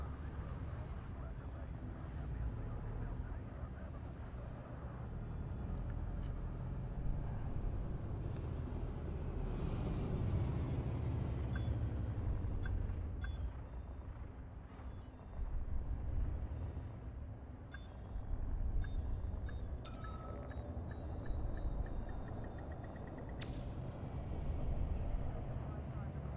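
A spaceship settling onto a landing pad in Elite Dangerous, a steady low engine rumble and airy roar with faint clicks and chimes, continuous and moderately loud, with voices speaking over it.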